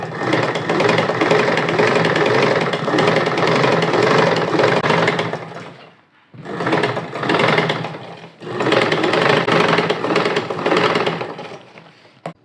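A sewing machine stitches the back panel of a collar-neck blouse in three long runs of fast, close, rattling whir, separated by short pauses, with no talk.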